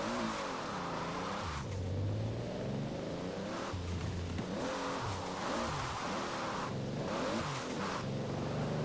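A 1600 horsepower Toyota GT86 in Forza Horizon 4 revs and accelerates with a steady, loud engine drone, rising and falling in pitch as it pulls along a highway, with no talking.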